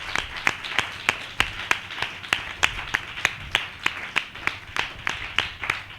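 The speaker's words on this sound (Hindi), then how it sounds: "हम जोरदार ताली से उनका स्वागत करें" Worshippers at a Hindi-language church service clap in unison to welcome someone, sharp, loud claps landing in a regular, evenly spaced beat close by, with no talking.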